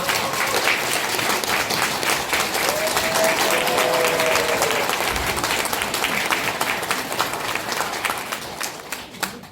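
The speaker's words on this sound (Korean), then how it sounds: "큰 박수로 환영해 주시기 바랍니다" A seated audience at a Catholic book concert gives loud, sustained applause to welcome a priest, dense clapping that holds strong for several seconds before thinning out.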